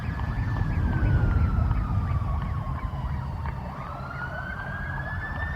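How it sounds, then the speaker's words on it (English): Police sirens wail and echo inside a played song, a rising and falling tone with a second warbling siren layered over a dense low rumble, loud and continuous. "all you hear is the haunting echoes of the police sirens"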